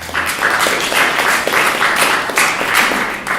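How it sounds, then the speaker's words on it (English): An audience applauds a visiting lecturer before a college talk on mass extinction: a steady patter of many hands clapping at moderate loudness, continuing throughout without speech. "It's nice to get applause when I haven't even done anything yet."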